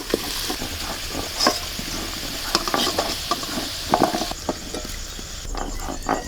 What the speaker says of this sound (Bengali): আলুগুলো খুব লাল লাল করে ভেজে নিয়েছি এবার তুলে নেব